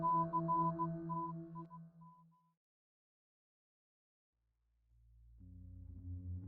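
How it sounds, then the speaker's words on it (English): Steady tonal beeps in short and long bursts, like Morse code, keying for a couple of seconds before fading into silence and a low rumble. "nextstep.wave includes Morse code"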